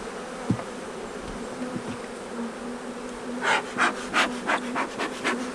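Honey bees buzz at a long hive, a steady low drone followed by a series of louder, rhythmic bursts of buzzing close by, with no talk.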